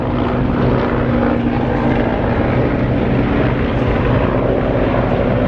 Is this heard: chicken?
no